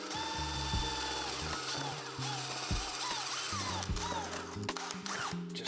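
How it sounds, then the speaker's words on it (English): A power drill with a 5mm bit whirs steadily, close by, drilling through a window frame, its pitch shifting as it bites and eases, continuing for several seconds without any talking. "I've got a 5mm drill bit, and I'm just going to drill through the frame in the middle."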